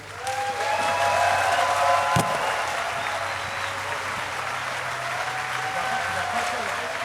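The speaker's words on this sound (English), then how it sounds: "give yourselves a fucking round of applause for giving it." A festival concert crowd at ArcTanGent cheers and claps after a live set, loud sustained applause with a sharp bang near the middle that eases slightly toward the end.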